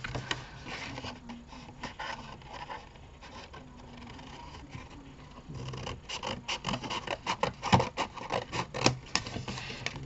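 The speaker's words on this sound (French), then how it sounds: "vous allez découper la bande que vous avez pliée à 2" A folded paper strip being cut with scissors: a run of quick, close snips and crisp rustles that grows busier and louder toward the end, with no talk.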